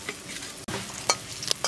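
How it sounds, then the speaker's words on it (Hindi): Green chillies hit hot oil in a kadai while chicken momo filling is being started, giving a steady close sizzle and frying hiss with a few sharp spatter crackles and no talking. "सबसे पहले हम हरा मिर्चा डालेंगे कढ़ाई में"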